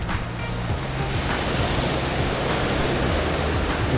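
Ocean waves wash onto the shore at Colombo, a steady, loud broadband surf roar that holds throughout, with some wind rumble against the microphone and no voices.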